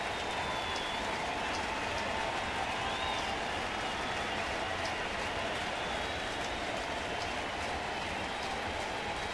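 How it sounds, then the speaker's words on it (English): Crowd at a Marlins–Cardinals baseball game in St. Louis roars steadily with broad noise through a 3-2 pitch, a continuous loud swell with no break. "Here comes the crowd again on this 3-2 pitch."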